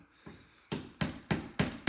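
A small hammer taps sharply five times in a steady rhythm, driving a pin into the end of stained-glass lead came, each strike close and crisp with a brief ring, after a fainter first tap.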